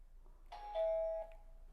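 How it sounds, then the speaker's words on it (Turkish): A doorbell chimes once with a clear two-tone ding-dong, ringing out in an otherwise quiet room. "zil çalıyor"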